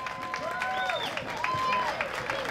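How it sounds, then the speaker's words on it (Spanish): An audience at a South Holyoke community food festival claps for the event volunteers, a moderate patter of applause with whistle-like cheers rising above it. "Un aplauso para Nelson y todos los voluntarios."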